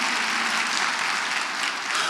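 A crowd at a county State of the County address applauds, a full, dense burst of many hands clapping continuously and close, with no break across the span.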